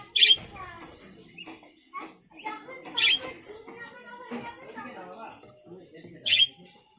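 Pet finches and budgerigars in a large cage chirp and squawk with sharp, loud calls recurring every few seconds over softer twittering, while a person talks quietly in the background.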